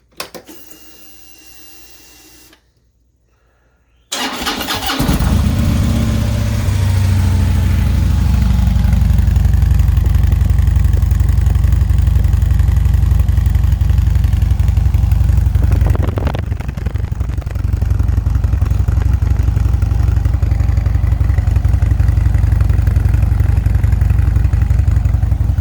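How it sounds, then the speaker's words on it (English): Harley-Davidson Ultra Limited motorcycle with stock mufflers starts after a brief quiet moment, then settles into a loud, steady, deep idle rumble close by, with a short dip in the middle before the idle resumes, no talking. "I'll go ahead and give you the sound of the stock muffler."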